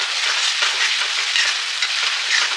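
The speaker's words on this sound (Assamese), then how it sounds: "এতিয়া আমি এইখিনি যে আছিলে দালচেনি, লং আৰু ইলাচি সেইখিনি দি দিছোঁ।" Cinnamon, cloves and cardamom fry in hot oil in a pan, giving a continuous close, bright sizzle with small crackling pops and no voices.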